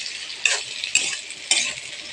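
Fish with eggplant, long beans and bitter melon stirred in a frying pan, a steady close sizzle broken by three sharp scrapes of the spatula against the pan.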